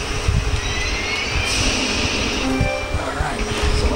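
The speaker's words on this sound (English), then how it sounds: "Afterburner Climax is playing." Jet engine roar and in-game sound from the Afterburner Climax arcade flight game running on a Sega JVS arcade setup, a steady loud whine with a voice talking over it.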